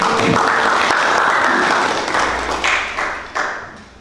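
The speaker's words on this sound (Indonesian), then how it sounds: "Tepuk tangan ya, SMK Wahidin hebat." An audience at a school talk show for SMK Wahidin in Cirebon bursts into loud, dense applause that holds steady, then gradually thins and fades toward the end.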